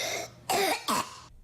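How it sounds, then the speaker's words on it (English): A child coughs indoors in a home with mold problems, two sharp, close coughs after a brief breathy throat sound, with no talk. "They even took a video of their daughter coughing."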